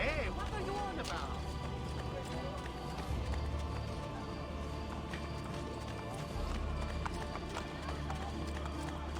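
Horse ridden through city streets in the Assassin's Creed: Brotherhood game, with steady hoofbeats in a running clip-clop rhythm over a busy town ambience, continuing at a constant level for several seconds.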